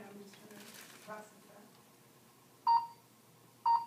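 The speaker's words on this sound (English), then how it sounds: "Then it's going to beep again, and that means I can go." A medical instrument scanner beeps twice, short sharp tones about a second apart, following some quiet talk.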